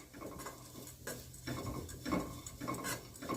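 Oats roasting in ghee while a spoon stirs and scrapes the pan, soft continuous rasping and clinking strokes at close range, fairly quiet, no voices.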